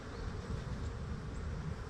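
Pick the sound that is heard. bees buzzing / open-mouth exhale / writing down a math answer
bees buzzing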